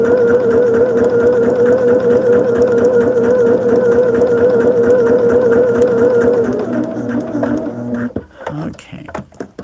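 A sewing machine stitching along a seam allowance runs loudly and steadily with a whirring hum for several seconds, then slows and stops, leaving a few clicks and handling noises.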